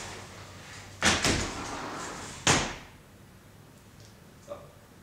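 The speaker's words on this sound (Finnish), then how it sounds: "Laita ovi sitä kiinni." Door being pushed shut indoors, two sharp bangs about a second and a half apart, the first with a quick double knock, followed by a faint small click; no one speaks.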